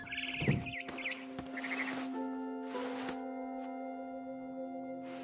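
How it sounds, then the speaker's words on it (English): A barn swallow chirps in the video game What Remains of Edith Finch, giving a few quick, bright twittering calls near the start before they fade under a quiet ambient hum. "Then I heard chirping outside my window. It was a barn swallow going back to her nest."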